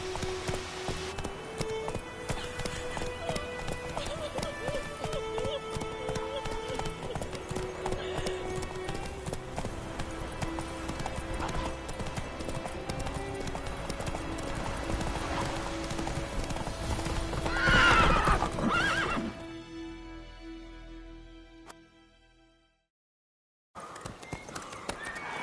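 The horse Roach gallops in The Witcher game, with rapid, rhythmic hoofbeats over a music score and a brief whinny near the end. The sound then fades out, drops to silence, and returns quietly.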